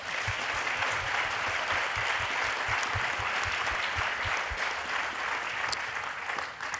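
Sustained applause from a French television studio audience, a dense steady wash of clapping at constant loudness with no voices over it, fading slightly at the very end.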